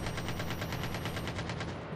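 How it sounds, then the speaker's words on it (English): Rapid automatic gunfire from a video game, a steady stream of evenly spaced shots rattling loudly and continuously without pause. "Who the fuck is shooting at me"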